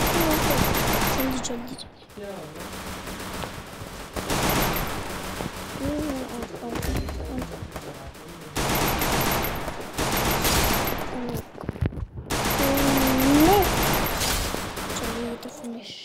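Bursts of automatic gunfire in a shooting video game come in long, loud, sustained volleys separated by short gaps, mixed with game effects, while a player talks hurriedly over them.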